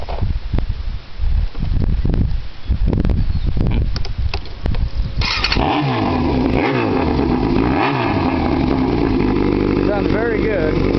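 Yamaha YZF 600R motorcycle fitted with inverted forks from a 1000, its engine rumbling loud and close with steady idle and a few revs, staying continuous throughout the clip.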